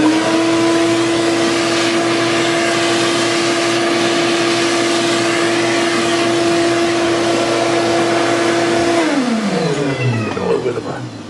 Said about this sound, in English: we'll grab the vacuum hose